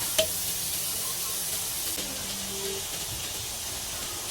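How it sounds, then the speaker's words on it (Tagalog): Star margarine melts and sizzles in a pan as the base for sautéing arroz caldo, a steady soft hiss throughout with a light clink near the start. "Halo-haloin lang po natin para matunaw po yung star margarine na panggigisa natin mga idol."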